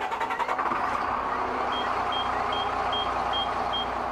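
A fire truck is started up at a fire station, giving a steady, close engine rumble with a regular high-pitched beep repeating over it.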